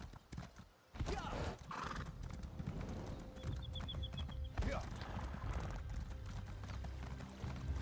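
Horse hooves clip-clopping in The Elder Scrolls Online, with a horse neighing, over busy game sounds and talk throughout the clip.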